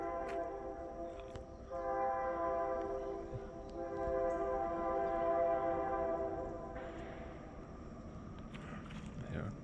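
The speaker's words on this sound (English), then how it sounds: "Do you hear the train?" Train passing at a distance near old beehive coke ovens in Ohio, its horn sounding long sustained chords over a steady rumble of rail cars, heard outdoors in the woods.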